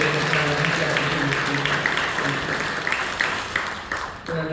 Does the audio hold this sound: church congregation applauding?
yes